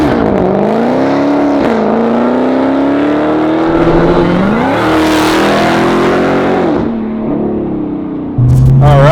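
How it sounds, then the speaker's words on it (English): A 2018 Dodge SRT Demon roars loud and close as it accelerates hard, its engine note climbing through gear changes with a brief tire squeal, ending on a steady lower drone. "for a ride in my friend Nino's 2018 Dodge SRT Demon"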